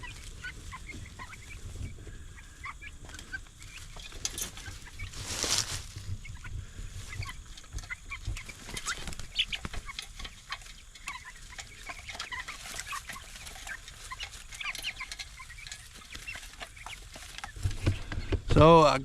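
Meat-bird chicks cluck and peep intermittently against quiet background noise in a chicken tractor, with a louder burst of activity at the end.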